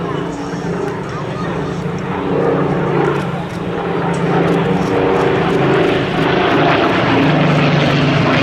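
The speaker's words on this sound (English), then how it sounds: "Lovely tail chase here by the two Spitfires." Two Spitfire propeller fighters fly a tail chase at an air show, their piston engines droning loudly overhead and swelling as they pass, with a commentator's voice over the engine noise.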